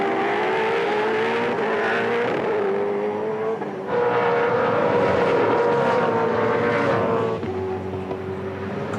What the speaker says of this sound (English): Just on the rev limiter in 5th before he slams on the brakes for this hairpin left hand